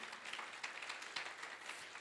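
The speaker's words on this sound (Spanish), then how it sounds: "Un fuerte aplauso al Señor Jesucristo." Applause from a church congregation, a faint, distant, steady patter of many hands clapping that continues evenly throughout.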